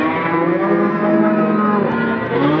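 A dairy cow moos at a busy livestock market, a long, loud, close bellow with no talk over it.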